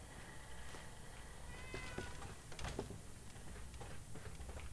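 Cat meowing in the video game Fallout 4, several brief, faint meows with small clicks between them over a quiet, continuous background hum.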